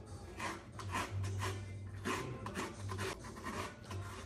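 Coconut flesh scraped from the shell in repeated rasping strokes, a close, steady scratching rhythm with short pauses, no talk.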